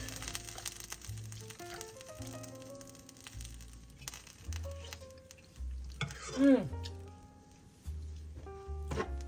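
Ground beef seasoned with onion, garlic, salt and pepper frying in a pan while being stirred, a steady sizzle with scraping and clacking of the utensil, and musical tones playing alongside it.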